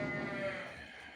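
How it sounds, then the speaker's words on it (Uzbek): Young female lambs, about 83 head, bleat at feeding time while silage and feed are handed out, a dense layered chorus of overlapping calls that is steady and close, then eases off a little toward the end. "2024-yil boshida tug'ilgan urg'ochi qo'zichalarimiz"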